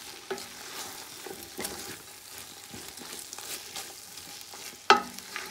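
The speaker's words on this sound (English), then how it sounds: "I'm gonna add my grated carrots right before we start adding the rice to the pot. And we're gonna mix again." Grated carrots get stirred into a pot of frying turkey fried rice, with soft scraping strokes over a low, steady sizzle and one sharper knock near the end, close by and without speech.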